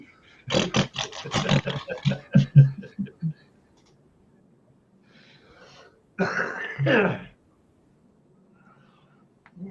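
A rapid series of harsh, rasping coughs or roaring grunts, then a pause before another rough, strained burst, loud and close.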